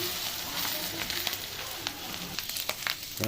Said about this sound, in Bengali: স্কিনটা পুরো ভাজা ভাজা হয়ে এসেছে।